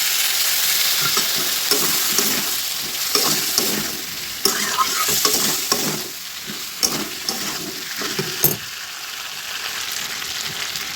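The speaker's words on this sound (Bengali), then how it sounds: "পটলটা দিয়ে এবার ভালো করে আর একটু জল দিয়ে কষিয়ে নেব" Pointed gourd stir-fried in a pan with a little water for a vegetarian aloo potol dish, giving a steady loud sizzle broken by repeated scraping stirs and clatters, with no talking.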